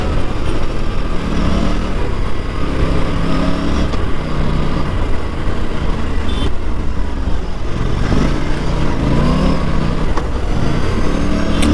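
Engine of a 2024 Yamaha R3 motorcycle being ridden and accelerating, a steady loud roar with wind rush through the whole stretch and no talking.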